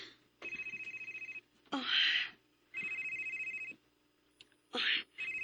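Telephone bell rings in a Cebuano-language radio drama, three clear repeated bursts of ringing separated by short pauses, with brief rustling or voice-like noises between rings.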